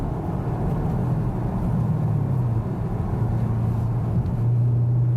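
A Chevrolet Camaro SS convertible with a 6-speed manual cruises in 5th gear at about 50, giving a steady, loud low engine drone with road and wind rumble throughout and no talking.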